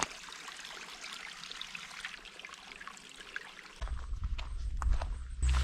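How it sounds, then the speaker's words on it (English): A stream flowing along a backpacking trail in the Irish countryside gives a steady, soft trickle and wash of water, heard fairly close. Louder rustling and handling noises come in toward the end. "I'm actually going to check the water just here because it's flowing pretty nice"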